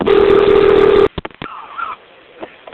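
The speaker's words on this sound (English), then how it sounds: "I had a cell phone in my lunchbox and I dialed 911" A cell phone keypad dials 911: one long, loud touch tone is followed by a quick run of short beeps, then fainter scattered clicks and tones.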